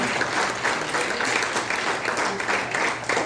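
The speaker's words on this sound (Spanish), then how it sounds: "Denle un aplauso al Rey de Reyes, el Señor de Señores." A church congregation at a Spanish-language service applauds in worship, a full, continuous round of clapping from many people at steady loudness that cuts off abruptly at the end.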